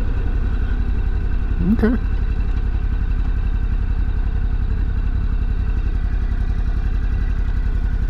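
Ducati Scrambler Sport Pro 1100 motorcycle riding through Seattle, a steady low engine drone with wind rumble throughout, and a brief spoken word over it.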